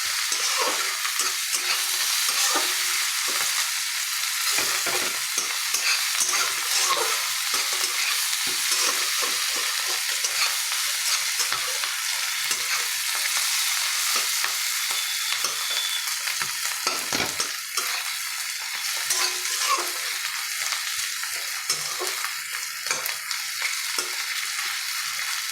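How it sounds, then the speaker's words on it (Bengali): Rice stir-fried in a pan with onion, carrot, capsicum and egg gives a steady, loud sizzle with frequent scraping and stirring clatter, continuing without a break and with no voices. "একটু ভাজা ভাজা হয়ে গেলে ভাতটাকে দিয়ে দেবো।"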